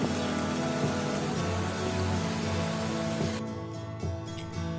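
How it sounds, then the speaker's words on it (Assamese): Heavy rain pours down as a dense, continuous hiss that eases slightly toward the end. "বহুত বৰষুণ এইকেইদিন।"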